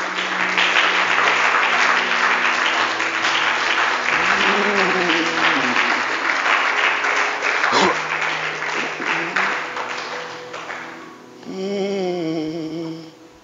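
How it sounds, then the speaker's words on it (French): A church congregation applauds and cheers for Jesus in a sustained, dense wash of clapping and voices, fading before a worship voice rises and sings near the end. "Est-ce qu'on peut acclamer Jésus?"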